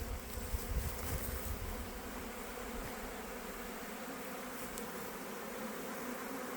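Honey bees hum in a dense, steady drone around hive boxes outdoors, many wings blending into one continuous buzz with no voices.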